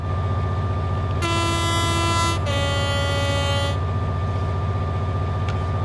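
A steam locomotive horn in Train Sim World 3, heard from outside the cab: two loud, sustained blasts with a slight pitch change between them, over a steady rumbling engine background.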